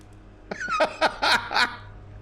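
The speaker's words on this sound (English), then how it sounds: "What on earth are you doing down here, you silly cat?" A cat in the video game The Excavation of Hob's Barrow lets out a quick run of four or five short, close meows in a steady rhythm, heard alone against a quiet background.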